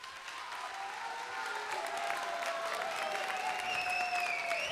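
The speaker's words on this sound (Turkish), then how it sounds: "Neyi alkışlıyorsunuz?" A television talent show audience claps steadily for several seconds, the applause swelling slightly and holding at a moderate distance, with faint tonal sounds running underneath.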